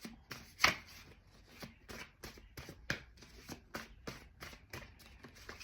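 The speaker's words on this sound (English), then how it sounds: "I just need to shuffle again." A deck of cards gets shuffled in a quick series of crisp riffles and soft slaps close to the mic, with one sharper snap early on, in a quiet room with no talking.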